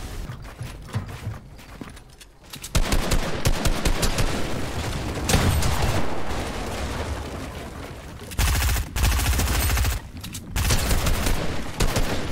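Rapid gunfire bursts in a 1v1 video game fight, loud and dense, with repeated volleys and short pauses between, over busy game effects.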